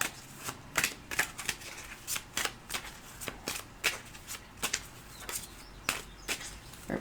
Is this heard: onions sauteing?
no